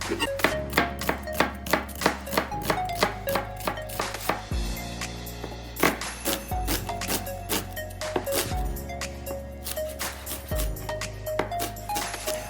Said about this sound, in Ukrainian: Так само нарізаємо цибулю кубиком.